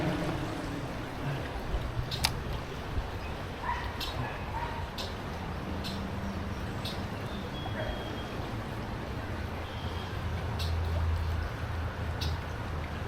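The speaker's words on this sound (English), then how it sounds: "The stream has definitely gotten some more water in it" A flooded stream running high after heavy rain gives a steady, broad rushing wash of water, while a dog barks sharply now and then in the distance.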